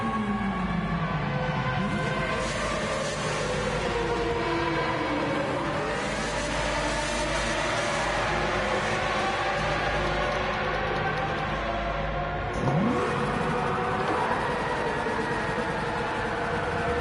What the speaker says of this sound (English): That sounds like a V10.